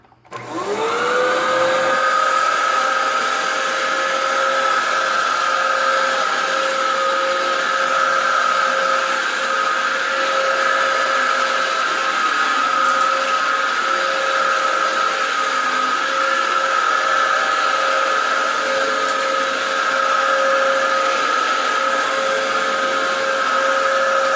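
A Dyson DC07 upright vacuum cleaner starts up and runs at a steady, loud whine while vacuuming an apartment, droning on without a break and with no talk.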